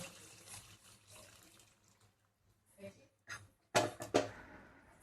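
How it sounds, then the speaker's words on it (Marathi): Quiet kitchen sounds, then hot water is poured from a metal pot into a cooking pot of bhaji amti in a couple of short, splashing gushes near the end. "इथे मी गरम पाणी ठेवलं होतं एक तांब्यावर, त्याच्यात ओतू आता आपण"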